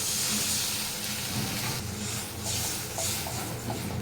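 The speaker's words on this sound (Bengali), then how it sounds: "জল দিয়ে দিই, জল দিয়ে দিই" Water poured into a hot pan of fried spices, a loud, close, continuous hiss and bubbling sizzle that holds steady for a few seconds.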